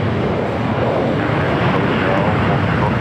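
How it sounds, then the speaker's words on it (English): An airliner on flight 8201 to Honolulu roars steadily at LAX, a dense, loud, close engine rush with no break. "Flight 8201 heading back to Honolulu."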